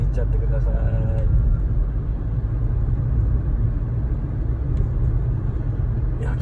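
A Suzuki Swift driven gently, heard from inside the cabin as a steady, low road and engine rumble that stays even and subdued throughout.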